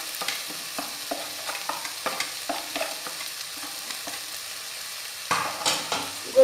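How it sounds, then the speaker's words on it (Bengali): Boiled chicken with black pepper powder is stirred in a pan with a utensil, making a run of quick scraping strokes at an even rhythm, with a few louder scrapes near the end. "গোলমরিচের গুঁড়োটাকে খুব ভালো করে মিশিয়ে নিচ্ছি।"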